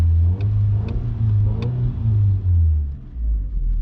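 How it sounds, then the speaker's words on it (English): A VW Golf MK5 engine with a fuel pressure regulator fault revs steadily at close range, its low rumble rising and falling through several throttle blips over a sustained idle drone. "Seems to be revving a lot better."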